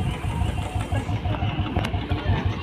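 A small scooter engine idles with a steady low putter, close by and continuous, with light background noise over it.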